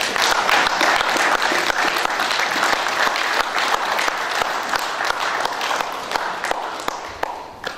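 A church congregation applauds the Lord, giving loud, dense clapping from many hands close by that carries on steadily and fades slightly toward the end.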